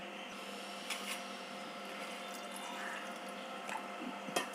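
Steady trickle of water running into a pan of jaggery, with a few small clinks and drips over a constant background hum.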